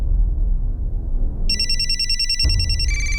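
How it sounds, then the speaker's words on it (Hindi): Telephone ringing after a low rumbling music bed, a bright electronic ring starting midway and continuing steadily to the end, loud and close, with no talk. "सलीम जी फोन लीजिए और जैसा वो करने के लिए कहे आप करते रहिए"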